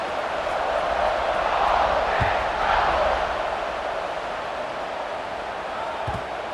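Football stadium crowd at kickoff, a dense, sustained roar of cheering from a large crowd that swells slightly in the middle, with a couple of dull thumps.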